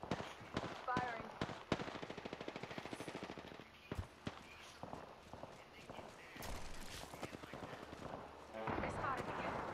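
Quiet bursts of rapid gunfire from the video game Apex Legends, with a few sharper single shots mixed in and players talking over the action.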